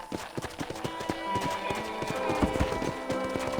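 Rapid rhythmic hoofbeats of a galloping horse, close and steady, over a busy background in Red Dead Redemption on PC.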